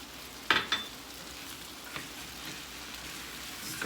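A spoon stirs thyme, onion powder, paprika, salt and pepper into a pan with a soft, continuous scraping and sizzling, and a few sharper clicks come near the start.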